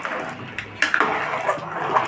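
Veg biryani with biryani masala is stirred in a metal pot, a few scraping spoon clinks and knocks against the pot rim, close and fairly quiet with no talking.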